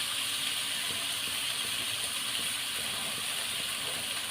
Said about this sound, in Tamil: கழுவி எடுத்துக்கணும் கருவேப்பிலை